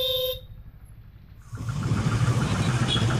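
Busy road traffic near a temple in Tamil Nadu: a car horn blares briefly up close, then a steady, loud rumble of engines and passing vehicles builds and holds.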